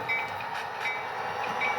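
An HO scale model train with D&RGW locomotives rolls along a layout, giving a continuous close rumble of wheels on track with faint clicks and light squeals.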